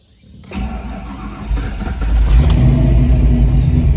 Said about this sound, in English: I'm gonna see how it hot cranks